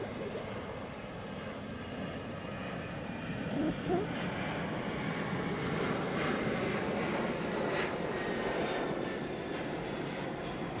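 Jet aircraft on the runway at Sydney Airport, a steady broadband engine roar holding loud and continuous throughout, swelling slightly midway with no voices over it.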